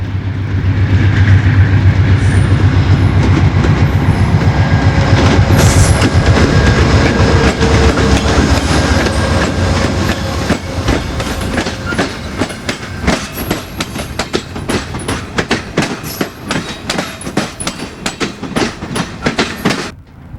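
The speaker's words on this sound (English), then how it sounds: "A GE Genesis locomotive and an older F-40PH head up the late afternoon consist of 3 superliners." A late-afternoon passenger train of three Superliner cars, led by a GE Genesis and an older F40PH locomotive, roars past in winter: a heavy, loud engine rumble gives way to rapid, rhythmic clickety-clack of wheels over rail joints.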